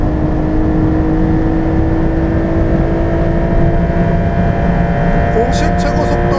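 A 2023 Porsche 911 Carrera GTS Cabriolet engine held at full throttle on the road, a loud, steady droning roar with wind and road noise, continuous and close.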